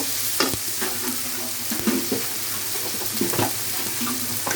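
Onion and garlic frying in a pan for a bean-seed and rui fish curry, a steady sizzle with repeated scraping and tapping of a stirring spoon against the pan.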